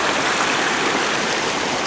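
Small creek cascade, a little baby falls, pouring water in a steady broadband rush that stays loud and continuous throughout, with no voices.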